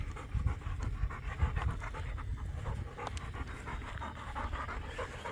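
A dog named Alex pants rapidly and close by at Fort Gaines on Mobile Bay, quick breathy huffs in a steady rhythm with a faint whimper, no talking.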